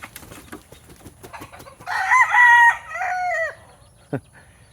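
A gamefowl rooster crows loudly and close by, one long cock-a-doodle-doo rising and falling, with softer clucking and scratchy farmyard noise before and after.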